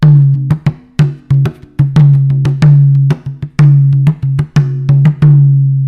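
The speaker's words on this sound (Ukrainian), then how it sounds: "А це звук непальського барабана." A small, light Nepali traditional wooden drum plays a steady rhythmic pattern of deep booming strikes and lighter taps, close and fairly loud.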